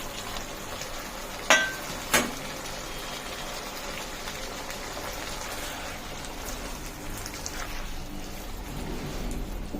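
Egg paneer pieces cook in a pan with a little water, giving a steady bubbling sizzle like rain. Two sharp clacks sound near the start, then the simmering continues evenly.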